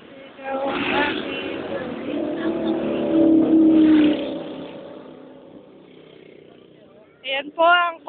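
A car passes in Tagaytay with a broad engine rumble that swells and fades over several seconds. Excited voices call out over it, and a few loud shouts come at the end.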